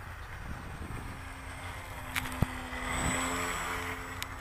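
FMS SuperEZ radio-controlled model airplane flying slowly nearby before a storm, its propeller drone rising and fading in the wind-blown air with a few sharp clicks, no talking.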